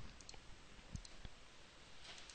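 A computer mouse gives a few faint, sharp clicks, two close together near the middle, while cutting edges in 3D face modeling for a warrior character; the room is otherwise quiet, with no talking.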